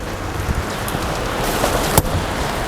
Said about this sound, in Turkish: Arkadaşlar bugün hava şartları biraz zorlu. Acayip yağmur yağıyor.